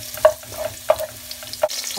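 Garlic dropped into hot oil for a Filipino zucchini dish sizzles and spits steadily, with a few sharp clinks of a utensil against the pan.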